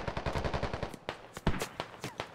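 Automatic gunfire from the game Squad: a fast, loud burst of rapid rounds, followed by several separate sharp shots spaced out over the next second or so.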